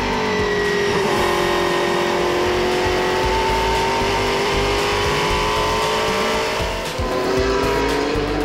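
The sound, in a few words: Sauber Mercedes C11 Group C race car engine at speed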